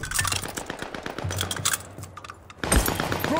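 M1928 submachine gun firing in the video game Call of Duty: Vanguard, rapid bursts of close automatic fire broken by a short lull, followed by another loud burst.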